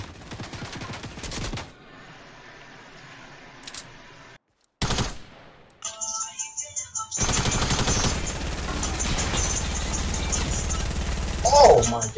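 Rapid SMG gunfire from a Fortnite match rattles in dense bursts, with a short silent gap, then a long loud stretch of continuous shooting and game noise while a person talks over the action.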